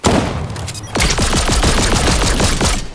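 Rapid pistol gunfire in the Fortnite video game: a burst at the start, then about a dozen evenly spaced sharp shots rattling off in quick succession, loud and close.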